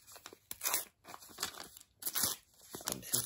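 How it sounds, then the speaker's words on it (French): A piece of paper has its edges cut off, heard as close, intermittent crunching snips and crinkles in several short bursts, each separated by brief pauses, with no speech. "On prend le morceau de papier et on va couper les bords."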